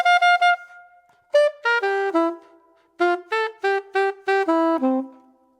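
A solo melodic instrument plays a syncopated jazz rhythm as short, punchy, clearly separated notes in three groups with brief pauses between, loud and close, with no talk.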